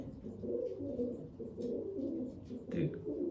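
Pigeons coo softly and repeatedly, a low throaty burbling that continues steadily, close by, with some faint rustling behind it.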